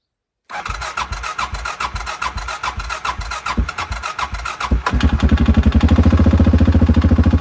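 A 2005 quad ATV on Mudzilla tires cranks over with rapid rhythmic pulses, then fires and settles into a steady, loud, close idle with a regular thumping beat.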